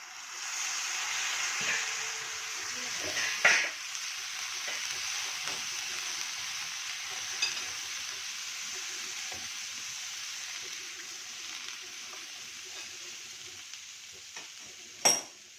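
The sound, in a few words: chickpeas added and stirred in a frying pan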